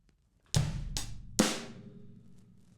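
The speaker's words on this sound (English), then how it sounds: "We're going to start with a bass drum on the 1 and then a snare drum on 2." A drum kit plays a bass drum on the 1 and a snare on 2, three sharp close hits with ringing cymbal wash decaying afterward, nothing else playing.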